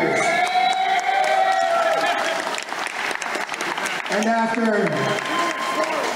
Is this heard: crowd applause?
yes